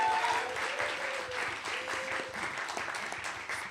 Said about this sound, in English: Let's have a round of applause, please, for Dr. Cameron and Janet.